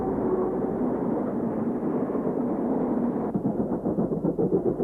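Stanier Class 8F 2-8-0 steam locomotive working at Birmingham Snow Hill station among ex-Great Western engines, a steady loud mechanical rumble that gives way to rhythmic chuffing beats near the end, with no talk.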